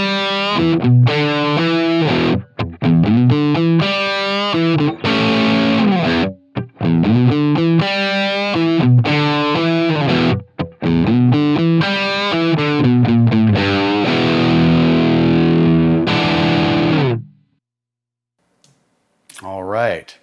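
Heavily distorted electric guitar played through a Line 6 Helix with a blended SM57 and ribbon mic impulse response, chugging riffs and sustained chords ringing loud and close for about seventeen seconds before cutting to near silence.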